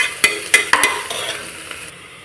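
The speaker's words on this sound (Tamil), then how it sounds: "கல்லுப்பு சேர்த்து நம்ம வதக்கும் போது ஆனியன் சீக்கிரமே வதங்கிடும்" Onions sautéing with rock salt in a pressure cooker for mutton biryani: a close sizzle broken by several quick metallic scrapes and knocks of the stirring spoon, fading to a steady hiss.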